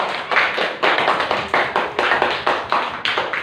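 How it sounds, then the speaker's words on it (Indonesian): Classroom students clap together in quick rhythmic bursts, a patterned group clap with short pauses between beats, close and crisp, with no talking over it. "Tepuk tangan untuk Intan."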